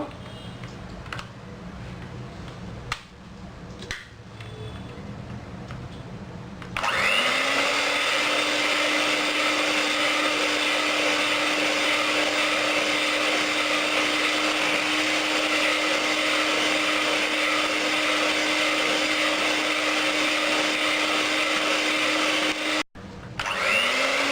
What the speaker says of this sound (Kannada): ಮೊಟ್ಟೆ ಹಾಕ್ತಾ ಇದ್ದೀನಿ. ಇದು ಚೆನ್ನಾಗಿ ಬೀಟ್ ಮಾಡ್ಕೋಬೇಕು.